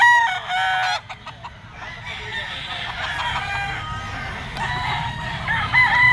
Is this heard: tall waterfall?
no